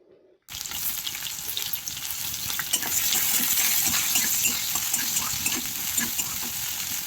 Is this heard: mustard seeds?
yes